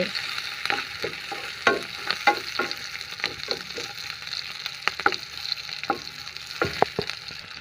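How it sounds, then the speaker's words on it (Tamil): Onions and green chilies sautéing in a pan, a steady soft sizzle with frequent clinks and scrapes of a spoon stirring, close and continuous with no talk. "வெங்காயம் போட்டு நல்லா வதங்கட்டும். வெங்காயம் பச்சை மிளகா போட்டாச்சு."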